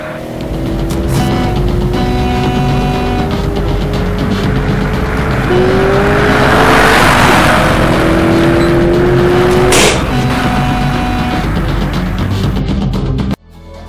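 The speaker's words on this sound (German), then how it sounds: "Da kommt ein Auto. Und ganz schnell." A car speeds in on an open road and roars past, its engine pitch climbing and then dropping, with some tire noise as it passes close and loud before the sound cuts off abruptly.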